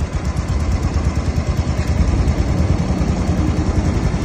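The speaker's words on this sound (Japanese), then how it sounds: "マピちゃんのバイクをキックさせてもらえることになりました。" A kick-started motorcycle engine runs at a steady idle, its low rumble loud and close the whole time with no break.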